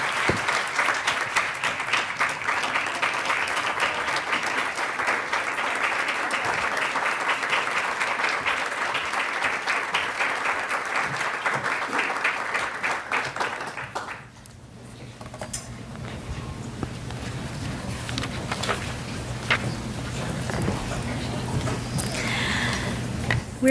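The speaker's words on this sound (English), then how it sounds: "Please give her a round of applause." Sustained audience applause fills a State Department event hall, steady and dense for about fourteen seconds before thinning into scattered claps and room murmur.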